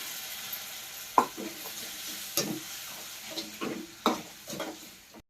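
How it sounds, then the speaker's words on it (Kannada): Tomato masala sizzles loudly in a hot pan after water is poured in, with bursts of hissing and stirring scrapes recurring every second or so, close up and with no talking. "ಒಂದ್ ಸ್ವಲ್ಪ ನೀರು ತೊಗೊಂಡು ಒಂದ್ ಬಾಟ್ಲಾಗಷ್ಟ ನೀರು ಹಾಕ್ಲಾತೀನಿ ನೋಡ್ರಿ"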